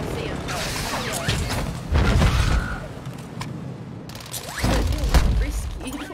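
Airstrike explosions boom and crash in a shooter video game. The heavy blasts and bursts of fire come in two loud surges, mixed with game noise, and someone talks over them.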